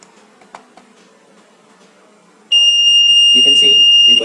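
A piercing, steady electronic buzzer on an Arduino switches on abruptly and drones loudly, with a person speaking underneath it.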